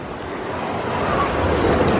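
Steady broadband wash of surf from the Mandalay Bay wave pool in Las Vegas, a continuous rushing roar that swells slightly louder toward the end, heard from a short distance with no talk.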